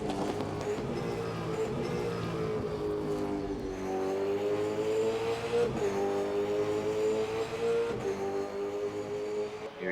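A Super2 race car accelerates hard around the Perth circuit, its engine rising through the revs with gear changes, loud and fairly close, no talk over it.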